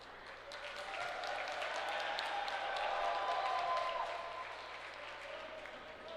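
A crowd in the gym at a men's college basketball game applauds steadily, the broadband clapping swelling through the middle and easing off, with faint court noise beneath.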